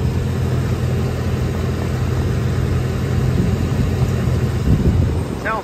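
A Ford 5.4 engine in a 2008 Ford F-350 bucket truck runs steadily at idle, a low rumbling drone that swells slightly toward the end.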